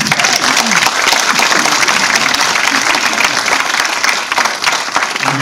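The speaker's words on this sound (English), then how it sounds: "Give him a round of applause." Audience applause for the host of a session, a dense, steady wash of many hands clapping close by for several seconds, with faint voices mixed in.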